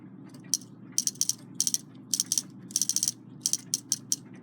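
Takeda short-drop octagon clock movement with its gears being turned as the hour hand rotates, giving bursts of small crisp clicking ratchet ticks in irregular clusters, close, over a low steady hum.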